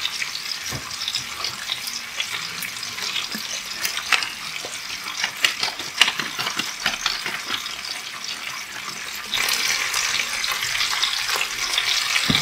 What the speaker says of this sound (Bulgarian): аз особено за телешкото и за по-такива дебелите мръвки си ги харесвам на тиганчето и си ги вкусявам там